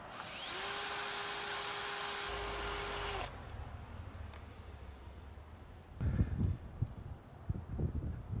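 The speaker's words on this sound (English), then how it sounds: "So I'll cut off the extra material and then drill a hole." A power drill bores a hole through bus bar stock for a Vectrix electric scooter fitted with a Nissan LEAF battery: a steady, close whine lasting about three seconds, then quiet and a few clattering handling knocks.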